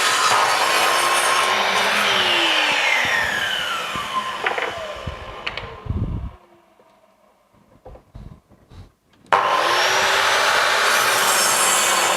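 A Metabo KS 216 miter saw cuts through a 60 mm piece with a loud, close whine and rasping bite that fades out around six seconds, then the motor whirs back up loudly near the end.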